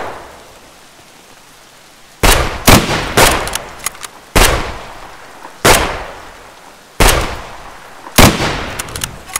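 Gunfire in the video game Escape from Tarkov comes in sharp, loud bursts of several close shots, spaced by short quiet gaps, each crack trailing off quickly over a low background hiss.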